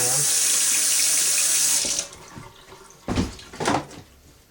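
Running tap water splashes loudly for about two seconds while hands are washed after handling trout, then stops, leaving a few short, sharp rinsing bursts near the end.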